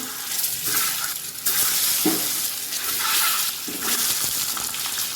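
Eggs fry in oil seasoned with turmeric, salt and chili powder for a biryani, a loud, continuous sizzle with bursts of spattering and scraping as they are stirred in the pan.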